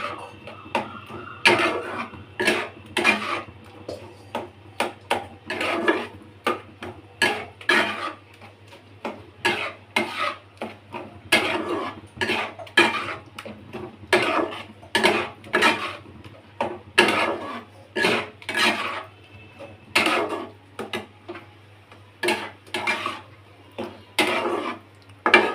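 Loita fish curry being stirred in a pan: a long run of rapid, close scraping and knocking strokes of a spoon against the pan, irregular but continuous, with no talk.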